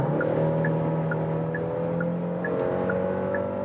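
A midsize luxury SUV accelerates from 90 to 120 km/h, heard from inside as a steady engine drone with a slow rise, plus a soft tick repeating at regular intervals, no talking.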